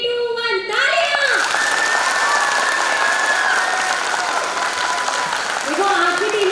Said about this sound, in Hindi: तो रेडी, 3 2 1 तालियां।